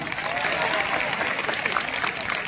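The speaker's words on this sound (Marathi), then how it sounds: "आयुषसाठी जोरदार टाळ्या वाजवा एकदा." A crowd at a school poetry event bursts into sustained, lively clapping for a child named Ayush, a dense, continuous patter of many hands throughout.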